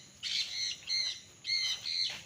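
Birds calling on a rural farm with fruit trees in Liliw, Laguna, four short bright chirping bursts close by, in two pairs, with quiet between them and no talk.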